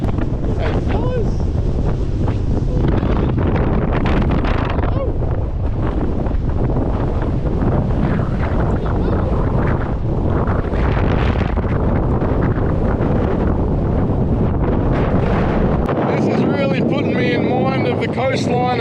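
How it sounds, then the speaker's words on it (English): Strong wind roars steadily across the microphone on the coast at Rainbow Beach, with heavy buffeting gusts that fill the sound throughout, near and loud, with occasional voices faintly beneath. "That wind has picked up quite something, as you can probably hear."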